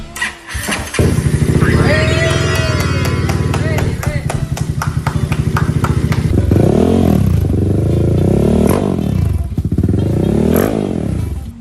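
A Honda Forza 350 scooter engine fires up with a loud starter burst, then settles into a running idle broken by several sharp revs, heard close up.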